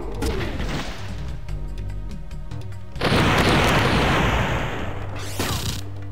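A grenade launcher blast in Front Mission 3 on PlayStation, a loud booming explosion about midway that rumbles for a couple of seconds, preceded by mechanical clanks and followed by a second burst.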